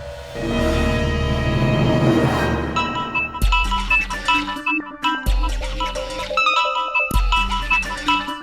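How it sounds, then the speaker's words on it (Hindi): A telephone rings in a Hindi TV drama scene. The ringtone comes in three repeated bursts with short pauses between them, loud and near, after a swelling musical sting. "सिमर के घर से फोन है, क्या करूं?"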